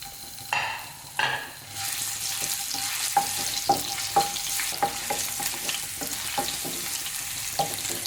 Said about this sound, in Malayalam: എണ്ണ ചൂടായിട്ട് വരുമ്പോൾ നമുക്ക് ഇതിലേക്ക് ഇഞ്ചി ഇട്ട് കൊടുക്കാം